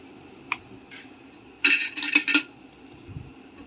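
A spoon stirs ghee in a pot, giving a short cluster of bright metallic clinks and scrapes between quieter moments, close by.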